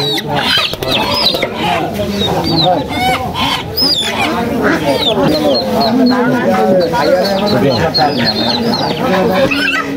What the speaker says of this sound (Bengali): এই তো রাধা হাঁস।